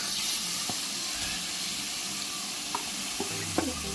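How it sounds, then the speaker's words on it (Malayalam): Chicken fries in butter in a pan for chicken noodles, giving a dense, continuous sizzling hiss, with a few soft clinks of utensils near the end. "നമുക്ക് ബട്ടറിൽ ചിക്കൻ ഫ്രൈ ചെയ്തെടുക്കാം"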